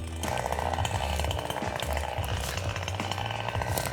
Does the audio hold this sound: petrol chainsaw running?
yes